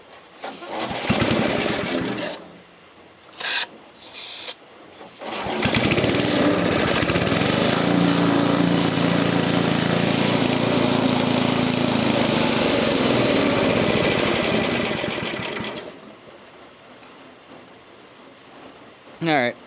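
A free brush cutter with a failing carburetor sputters in short, uneven bursts, then catches and runs loud and rough for about ten seconds before cutting out.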